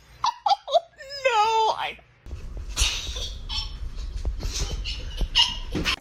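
A dog begging for food gives a few short high whimpers followed by a longer wavering whine, then louder rustling and background noise take over.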